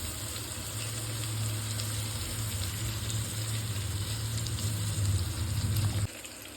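Mint leaves fry in a pan of oil for ghee rice, producing a steady close hiss with a low rumbling hum underneath that cuts off near the end, no talking.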